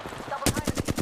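Rapid automatic gunfire in the Apex Legends battle royale game, about six sharp bursts in quick rhythm, loud and close, starting after a brief stretch of low voices.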